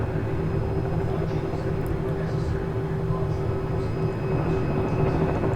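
Steady drone of a helicopter in flight, a constant low engine hum with a faint whine, continuous and fairly loud throughout.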